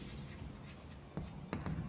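A marker or chalk scratches across a board during a class lesson, making brief faint strokes with two sharper taps near the end, heard close and quiet.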